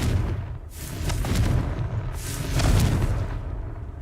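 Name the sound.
Confringo blasting spell explosion in the video game Hogwarts Legacy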